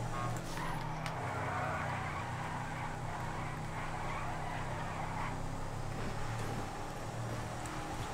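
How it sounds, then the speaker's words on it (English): In GTA 5 Online, a car spins out with a steady engine drone and tire skid noise, loud and continuous throughout. "Damn, it spun out."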